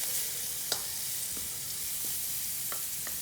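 Butter melting and sizzling in a pan while Korean-style fried kimchi hot wings are prepared; a quiet, steady hiss with a few faint clicks of a utensil, no voices.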